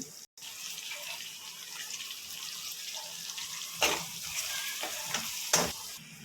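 Boiled mutton blood frying in a pan with turmeric, giving a moderate sizzle with watery spattering and a couple of sharp scraping stirs toward the end.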